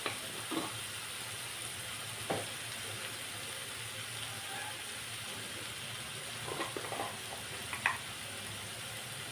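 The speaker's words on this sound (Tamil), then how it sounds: "நல்லா வதக்கிக்கலாம்." Egg masala with tomato, salt, turmeric and garam masala sautéing in a pan, a soft steady sizzle with occasional faint clinks and stirring scrapes.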